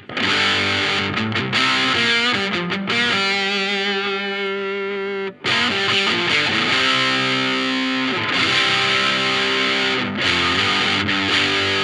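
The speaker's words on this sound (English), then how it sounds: "these two will stack into each other quite nicely too" Electric guitar through a Blackstar overdrive stacked into a Formula 55 pedal chugs and rings out thick, crunchy chords with sustained notes, loud and continuous with only a brief break midway.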